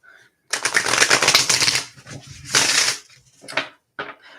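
A deck of tarot cards being shuffled and cut, with dense papery riffling bursts in separate bouts and brief pauses between them, close and clear with no talk.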